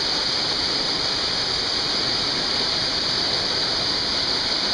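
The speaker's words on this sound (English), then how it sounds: "These are the upper falls." Upper falls of Nayaca Waterfall roar as a steady, dense wash of falling water, continuous and loud from start to finish with no voices.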